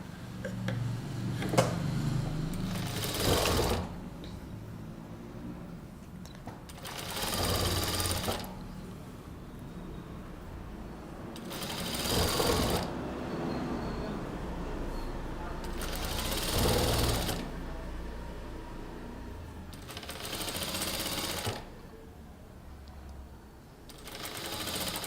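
A sewing machine stitches a kurta cross piece with a half-inch seam allowance, running in several short bursts separated by pauses while a person talks between runs.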